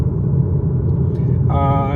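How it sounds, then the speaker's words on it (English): Tire roar inside a 2023 Skoda Superb 2.0 TSI coasting downhill in neutral, a steady low rumble filling the cabin, with a voice starting to speak near the end. "there is quite a bit of tire noise"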